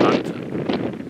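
Gusty wind buffets the microphone with a steady low rumble and broad hiss, with faint voices underneath, on a hiking trail from Pigadia to Amoopi on Karpathos, Greece.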